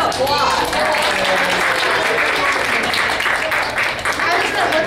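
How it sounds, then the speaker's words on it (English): Sustained applause at a Disneyana collectors' event in Dayton fills the clip, a dense wash of clapping that holds steady from start to finish. "give him a round of applause"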